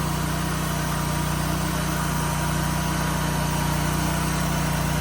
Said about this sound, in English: I can still hear it on that inside bearing over there, and yeah, she's rubbing this bearing too a little bit.